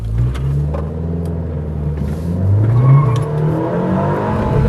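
A Dodge Caliber SRT-4 drives hard with heavy torque steer, its engine loud and close, droning and rising under acceleration with no talk over it.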